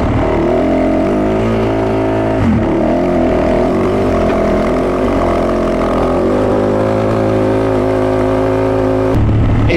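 A Fantic 450 Rally motorcycle fitted with an Arrow exhaust runs loud and close, its single-cylinder engine holding a steady rough drone with brief throttle blips.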